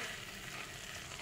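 Chopped spiny gourd fries and sizzles in a pan as it is stirred and turned, giving a steady, soft hiss without any talk.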